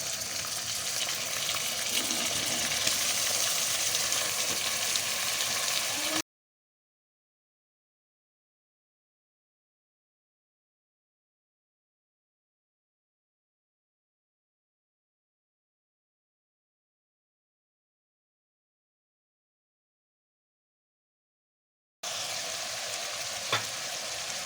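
Half a kilo of bone-in mutton fries with onions in a pot, giving a steady close sizzle and bubbling hiss, broken by a long stretch of total silence before the frying resumes.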